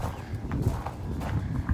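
A horse moves about on a farm, its hooves giving a few uneven soft clops and thuds close by over a low background rumble, without speech.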